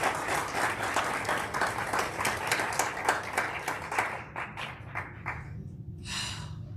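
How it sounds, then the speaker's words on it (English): Audience at a school board meeting applauds for two ladies, steady clapping lasting several seconds and then thinning out toward the end, with a brief burst of clapping at the close. "can we give those two ladies a round of applause?"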